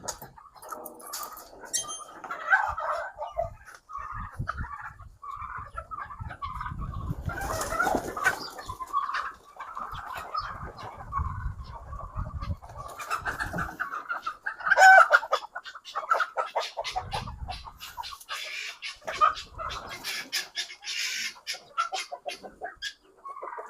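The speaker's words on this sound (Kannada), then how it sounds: "ನಾವು ಇದು ಟರ್ಕಿ ಸಾಕಿದೀವಿ, ಓಕೆ, ಮತ್ತೆ ನಾಟಿ ಕೋಳಿ ಸಾಕಿದೀವಿ" Turkeys and native country chickens in a farm poultry shed cluck and call repeatedly, moderately close, with scattered rustling and shuffling between the calls.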